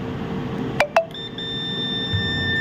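A digital multimeter checking voltage on a laptop board gives two sharp short beeps followed by a sustained electronic tone, fairly close and without speech.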